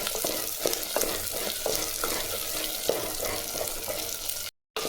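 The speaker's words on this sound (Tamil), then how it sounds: "வெங்காயம் பாருங்க நல்லா வதங்கி வருது." Small onions and garlic frying in a pan for a Tamil kuzhambu, with steady crackling sizzle and occasional stirring scrapes throughout, fairly close, no talking, ending with a brief dropout.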